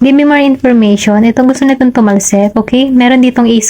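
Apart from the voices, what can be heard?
No distinct noise like a dog, phone or traffic.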